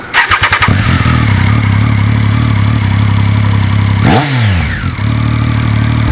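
Triumph Street Triple 675 motorcycle engine, loud and close, firing in a burst of sharp throttle blips, then settling into a steady idle that rises into a quick rev and drops back to idle.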